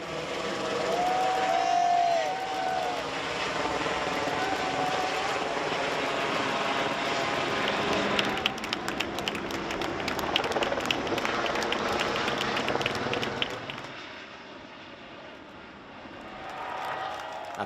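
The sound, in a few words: Airbus A330neo airliner taking off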